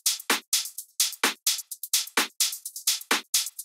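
A tech house drum loop plays dry and punchy, with the clap held back by dynamic EQ among steady, rapid, evenly spaced percussive hits and no voices.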